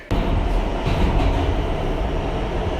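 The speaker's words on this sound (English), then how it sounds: "This is a Brooklyn-bound M local train via the B line." A New York City subway M local train runs between stations, a loud steady rumble and roar of wheels on rails with faint rhythmic clatter, heard from inside the car.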